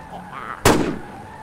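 A single sharp, loud gunshot cracks out mid-moment in a Fortnite-style video game, bursting suddenly and fading quickly, with a faint voice chat murmuring before it.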